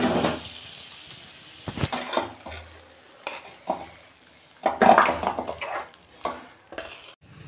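Cooked cabbage with fish head is tipped and scraped from a pan into a dish: clattering spoon-on-metal knocks and scrapes come in irregular bursts over a faint sizzle, close and fairly loud.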